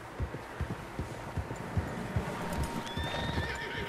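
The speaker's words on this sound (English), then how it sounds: "Horses, quite a few of them." A group of horses moving in the Red Dead Redemption 2 video game: a steady patter of clip-clopping hooves over a low, wide outdoor rumble, with a whinny near the end.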